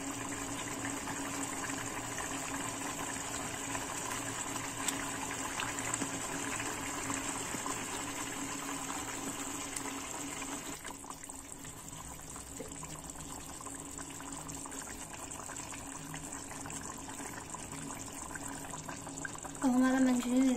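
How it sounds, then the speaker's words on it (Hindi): Manchurian gravy boils in a pan, giving a steady, moderately quiet bubbling hiss that runs throughout, with a short voice near the end. "देखिए हमारी ग्रेवी अब बॉईल होना स्टार्ट हो गई है।"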